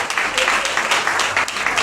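Congregation applause and acclamation at a Sunday church gathering, steady dense clapping with rhythmic surges throughout, fairly loud and close.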